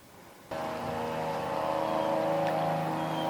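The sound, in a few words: neighbor's tiller tilling a garden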